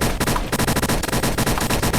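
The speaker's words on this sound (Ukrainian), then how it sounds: "я на якомусь острові стріляю в людину" Rapid automatic gunfire in the Roblox game Military Tycoon, on an island, with loud close bursts of repeated shots in quick succession across the whole stretch.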